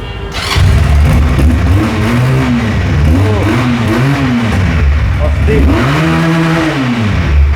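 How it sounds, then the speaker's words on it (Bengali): A Pilder V4 250cc two-cylinder cruiser motorcycle revs loudly and close through a twin-muffler exhaust, rising and falling in several throttle blips over a continuous deep rumble. "তো এই যে বাইকের সাউন্ড শুনতে পাচ্ছেন একজস্টের"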